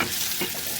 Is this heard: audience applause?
no